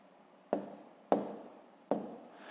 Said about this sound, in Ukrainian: Записуємо 138